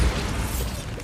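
A Bombarda blasting spell cast in the video game Hogwarts Legacy: a deep, close boom that opens abruptly, then a broad rumbling, crackling tail that holds for about a second.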